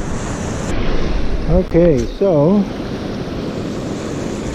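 Ocean waves wash up a beach at night during razor clam digging, a steady broad roar of surf and wind close by, with a person speaking briefly over it.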